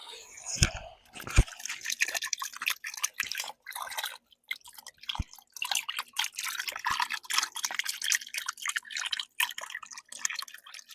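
Water trickles and splashes onto soil in a pot planted with lotus, in crackly, uneven bursts, with a few sharp drips and a soft voice faintly in the background.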